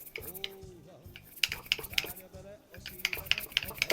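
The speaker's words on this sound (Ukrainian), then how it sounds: "Будемо колотити сметану з мукою." Rapid rhythmic clinking of a whisk beating sour cream with flour in a bowl, with a voice speaking quietly alongside, while making Szegedin goulash.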